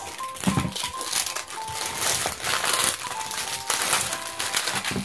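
Crinkly plastic wrapper layers of an LOL Surprise toy being peeled and crumpled, a continuous rustling crackle with brief louder crinkles throughout.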